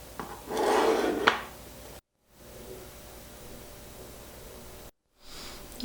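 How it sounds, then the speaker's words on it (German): A knife cutting through a Russian honey cake (Medovik) with a soft raspy scraping and rubbing, two short bursts of cutting separated by pauses, fairly close and quiet. "Ich schneide ihn jetzt einmal auf und zeige,"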